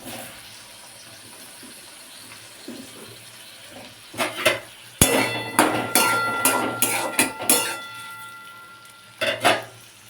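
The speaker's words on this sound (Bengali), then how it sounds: "তো প্রথমে যেটা দেব, আমি টমেটো বাটারের উপর দিয়ে দেবো।" Chopped tomatoes dropped onto melted butter in a hot pan, a burst of sizzling and clattering spatters starting partway through and settling into crackles, with a final brief flare near the end; no voices.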